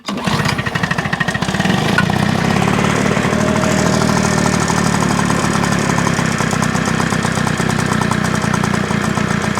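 A lawnmower engine restarted on choke runs steadily and loudly close by, with a rough, knocking mid-pitched drone throughout and no talking.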